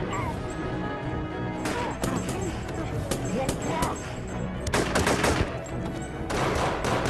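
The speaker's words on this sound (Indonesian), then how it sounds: "baku tembak pun tak terelakkan." Gunfire in a film shootout, rapid bursts of shots and impacts under loud mixed soundtrack noise and voices, with denser volleys in the middle and near the end.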